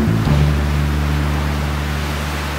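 Waves surge and crash as a storybook effect, swallowing a king's boat: a loud, dense wash of water noise over a low droning rumble, steady and fading slightly.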